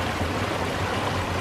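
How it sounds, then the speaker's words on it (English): A small tumbling brook flows beside a country lane in Cornwall, a steady close rushing and burbling of water with no voices over it. "we followed this tumbling little brook all the way down so far"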